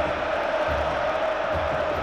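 Stadium crowd at a Grêmio versus Juventude football match cheering after a Grêmio goal, a steady dense roar of many voices held evenly throughout, loud and continuous with no single voice standing out.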